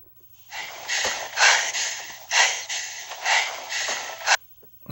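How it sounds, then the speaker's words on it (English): Heavy, rhythmic panting opening the Star Wars trailer, close and loud breaths in quick irregular bursts, heard alone against near silence. "a nice Lucasfilm comes out and you hear panting"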